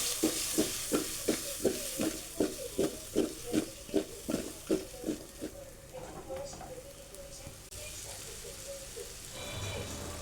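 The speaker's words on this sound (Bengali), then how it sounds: "কড়াইতে তেল দিয়ে পেঁয়াজ কাঁচামরিচ দিয়ে কিছুক্ষণ ভেজে নিয়ে এরপর আলুগুলো দিয়ে দেয়া হলো" Onions, green chillies and potatoes frying in oil in a wok, a sizzle running under a series of rhythmic scraping strokes of stirring in the first half, then a quieter, steadier sizzle afterward, fairly faint overall.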